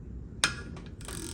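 A Snap-on 15 mm flank drive impact socket slips on a bolt with one sharp metallic clack, then a softer scrape and a second clink, close up with no talking.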